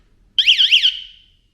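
A YoLink smart home siren sounds once, a loud, warbling electronic alarm tone that wobbles up and down for about half a second and then fades quickly into silence.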